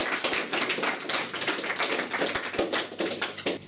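Wedding guests in Tatabánya, Hungary, give a round of applause after a marriage vow: a lively, close burst of many clapping hands with uneven, sharp individual claps that keeps going for several seconds.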